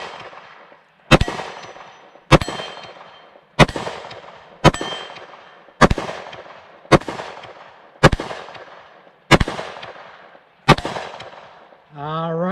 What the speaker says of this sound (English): Now we got 10 rounds of 10mm to put through it and see if it can handle this.